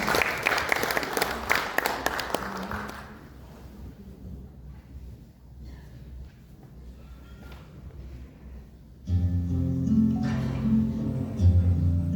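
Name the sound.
audience applause at opening ceremony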